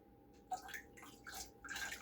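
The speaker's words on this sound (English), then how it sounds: "I'm going to dump some vinegar in there." Vinegar poured into hard water in a home canner for canning potatoes and chicken broth, heard as a soft splashing pour that comes and goes in short bursts over a faint steady background.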